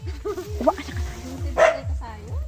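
A large, fat dog gives a run of short, deep barks at a steady beat, fairly close, with a few higher yips mixed in and voices chattering over it.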